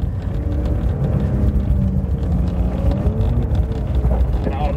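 A Porsche 911 Dakar works its engine over rough quarry ground off-road, a loud, steady rumbling drive with bumps and gravel noise, while a person talks over it.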